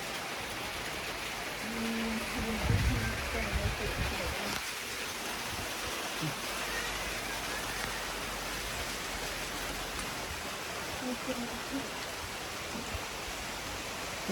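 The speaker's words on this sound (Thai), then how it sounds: "ฝนตก" Steady rain falls outside the front of a house on a cold, dark evening, a continuous broadband hiss at moderate level with a brief low thud early on and no speech over it.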